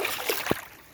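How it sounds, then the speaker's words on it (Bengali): Someone swimming in a pool stirs up a brief wet slosh and splash of water, fairly faint and close, lasting about a second. "এই যে সাঁতার কাটছি"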